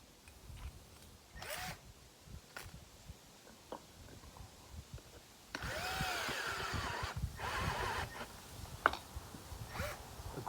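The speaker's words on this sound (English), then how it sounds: "And we're going to put in a step drill." A cordless drill with a step drill bit bores a hole in the battery hood of a Land Rover Discovery, starting with short bursts and then grinding steadily for several seconds, close and fairly loud.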